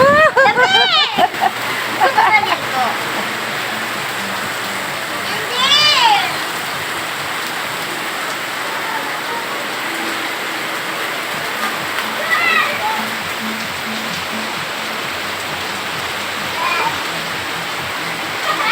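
Heavy rain from Typhoon Carina pours down in a steady, dense hiss like running water, continuous and fairly loud, with a few brief louder splashes, while people talk now and then.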